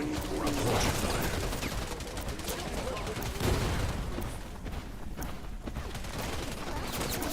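Sustained volleys of gunfire in the video game Wild Assault, dense and continuous with overlapping bursts and impacts, loud throughout with faint voices underneath.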